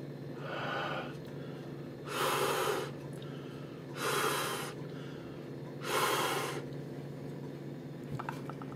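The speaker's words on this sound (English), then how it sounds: "We pick it up and I'll breathe on it." A person breathes onto a paper hygrometer held close, three long, loud exhalations spaced about two seconds apart over a steady background hum.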